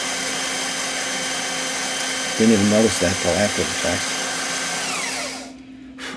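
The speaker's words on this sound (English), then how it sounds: "Here I drill, and I forget about the ground clamp, and it's spinning around the drill." A power drill bores into a crystal phonograph cartridge housing with a steady, loud whine that runs for several seconds and then cuts off, while someone talks over it.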